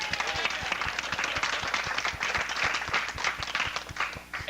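An audience at Expo 86 in 1986 claps steadily in rhythm, a dense continuous patter of many hands at moderate distance, with a regular beat running through it and a voice over the top.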